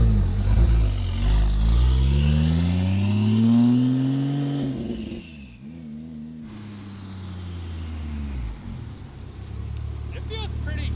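A rebuilt, previously destroyed Porsche 911 Turbo pulls away for a lap around a building, its engine note rising as it revs and drives off, then fading into the distance with faint background noise.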